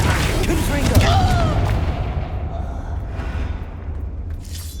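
The Depulso spell being cast in the video game Hogwarts Legacy, a deep magical boom with a whooshing swell that rumbles for a couple of seconds and then fades into low ambient background.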